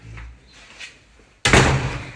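A house back door shuts with a single loud, close slam that follows a few quiet shuffling handling noises.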